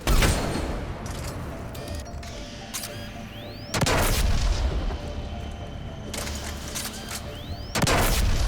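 Black Widow sniper rifle shots in the Mass Effect 3 video game during the Quarian Geth war, three loud, heavy booming blasts spaced a few seconds apart, each ringing out over a constant rumbling battle background.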